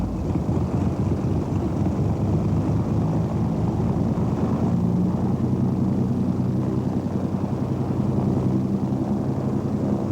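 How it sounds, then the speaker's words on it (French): A Nelson 40-horsepower engine on a Goodyear airship drones steadily and loudly, a continuous low rumbling hum with no pauses throughout. "de lancer le moteur, un Nelson de 40 chevaux"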